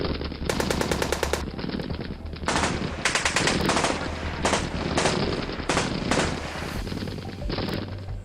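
Rapid machine-gun fire aimed at protesting coal miners, loud bursts of repeated shots with short pauses between them, close and continuous, no voices.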